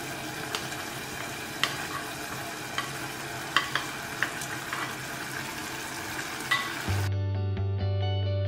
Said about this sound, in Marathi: आतां न्हू आमी फ्राय केलेले पटेटोज घालया हिम्यान